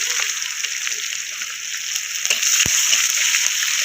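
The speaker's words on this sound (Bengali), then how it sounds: "তেলটা গরম হয়ে গেছে, একটু 5 ফোড়ন দিয়ে দেবো" Five-spice mix (panch phoron) crackling in hot mustard-style oil in a village kitchen, a loud continuous sizzle with a sharp metallic tap partway through as the seeds are stirred.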